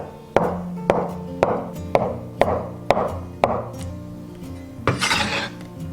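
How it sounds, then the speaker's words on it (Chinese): Egg tofu being sliced on a cutting board, with six evenly spaced knife strokes each landing with a soft thud against the board, followed by a brief scraping rustle as the slices are gathered. "准备几根鸡蛋豆腐，切片"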